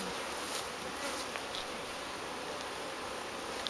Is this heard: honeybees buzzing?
yes